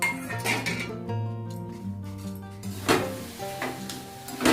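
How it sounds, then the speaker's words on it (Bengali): Two dried red chillies and panch phoron are dry-roasted in a pan, with metallic clinks and scraping from stirring, bright clatter bursts against a steady tonal background. "এটা হচ্ছে 2টো শুকনো লঙ্কা নিয়েছি আর 5 ফোড়ন নিয়েছি। এবার এটাকে আমি অল্প ভেজে নেব"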